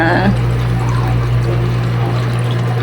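Water pours and churns steadily inside a washing machine as liquid detergent is added, making a loud, continuous rushing flow over a low mechanical hum.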